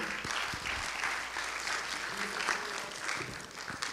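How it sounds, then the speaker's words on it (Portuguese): An audience at an event warm-up session claps together in a sustained, moderately distant round of applause, with a few voices talking faintly underneath. "Gente, palmas, por favor."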